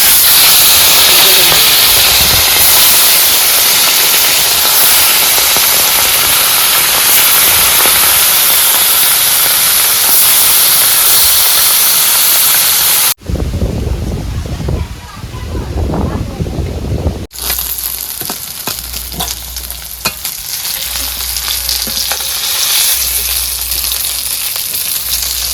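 Fish dropped into hot oil with fried chillies in a home kitchen gives a loud, steady hiss and sizzle that fills the first half, then breaks into quieter clattering and muffled sounds before the frying hiss resumes.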